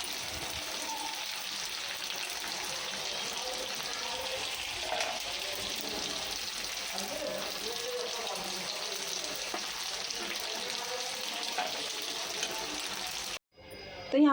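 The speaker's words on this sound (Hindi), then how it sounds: "मैं वही कर रही हूँ चाप को फ्राई।" Soya chaap pieces frying in a pan of hot oil, giving a steady, dense sizzle that runs nearly unbroken at close range before cutting off abruptly near the end.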